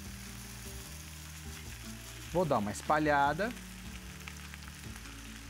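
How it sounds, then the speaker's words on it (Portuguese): A pancake batter spread into a pan of hot olive oil sizzles softly and steadily, heard close up while someone speaks Portuguese over it. "vou deixar ela fritando desse jeito"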